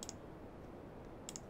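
Two quick computer mouse clicks confirming an OK dialog in Global Mapper mapping software, one near the start and one near the end, crisp and close against a quiet background.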